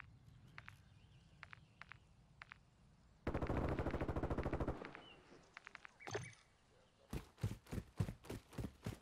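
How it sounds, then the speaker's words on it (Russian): Gunfire in the Call of Duty: Modern Warfare II beta: a sustained burst of automatic fire, followed by several quick single shots and then a rhythmic run of loud repeated shots. "Это я выстрелил, решил проверить, как работают курки."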